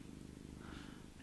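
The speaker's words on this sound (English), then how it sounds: "If you can hear any purring, I've got my cat sitting on my lap" A cat purring on a lap, a soft, close, rhythmic rumble that pulses evenly throughout.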